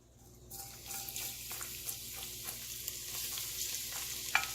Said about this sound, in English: And then I saute my garlic.